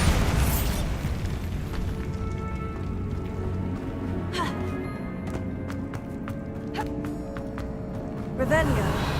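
A Bombarda spell goes off in Hogwarts Legacy as a low booming blast over a steady rumbling game background, followed by scattered crackles and popping debris, with a voice speaking over it.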